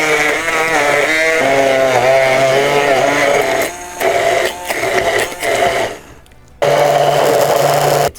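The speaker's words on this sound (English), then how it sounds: "So just get your stick blender." An electric stick blender whirs loudly and close while blending garlic into an emulsion for toum. Its motor pitch wobbles and bogs as it works, it cuts out briefly, then it surges back on.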